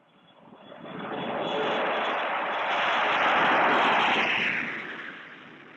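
A North American XB-70A Valkyrie jet aircraft in flight makes a broad, rushing roar that builds, holds steady and loud, then fades away, with no voices over it.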